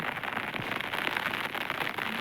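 Rain patters steadily on a surface outdoors, a dense, even hiss of drops with no voices.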